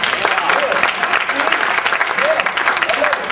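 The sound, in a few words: audience applause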